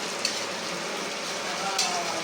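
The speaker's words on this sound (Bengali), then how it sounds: "এটাকেও একটু হালকা কষিয়ে নেবো।" Chicken and whole garlic cloves sauté in a pan with a steady, soft sizzle and faint frying crackle, a couple of light stirring clinks, no talking.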